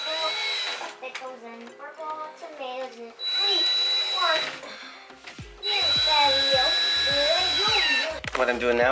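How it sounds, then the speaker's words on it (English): A power drill drives 1-inch screws through roller shade blind brackets into a wall, giving whining bursts that rise and stop, with two longer runs of motor whine between quieter pauses. "drilling in the 1-inch screws and the bracket and mounting it onto the wall."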